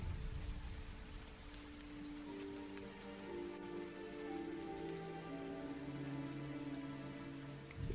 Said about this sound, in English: the rain was so heavy that everything around me seemed blurry